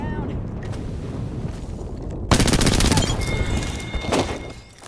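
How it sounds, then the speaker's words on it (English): A burst of rapid gunfire in the video game Apex Legends erupts partway through, loud and sustained for about two seconds over a steady background rumble and game voices. "Firing for effect."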